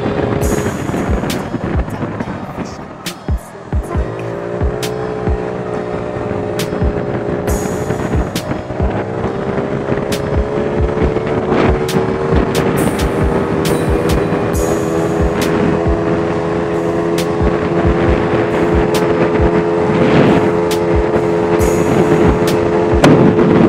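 A Bintelli Breeze 50cc scooter, bored up to 80cc, rides along a bike lane, its small engine droning and rising steadily in pitch as it accelerates, with gusty wind buffeting the microphone throughout.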